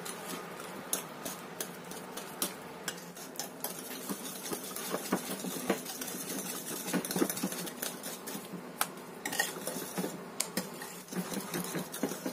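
Grated coconut is stirred by hand into sago cookie dough, making steady close scraping with many quick irregular clicks and taps throughout and no voices.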